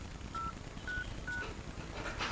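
Phone keypad tones dial a code to check a handset's IMEI, three clear evenly spaced beeps followed by a fainter fourth, quiet under a steady hiss of background noise.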